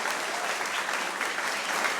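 A concert audience gives loud, dense, sustained applause for a singer, the clapping steady and unbroken throughout.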